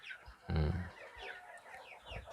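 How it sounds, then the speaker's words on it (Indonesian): KUB-2 kampung hens kept in a coop cluck and murmur, with one louder nearby squawk and softer scattered clucks around it. "Nah, inilah kandang apa namanya, ayam-ayam kita yang ada di sini, dan ini memang betina semua."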